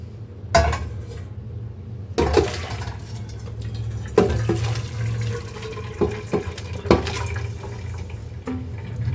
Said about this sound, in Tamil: இப்போ இந்த வேக வச்ச கீரையை நம்ம ஃபில்டர் பண்ணிக்கலாம்.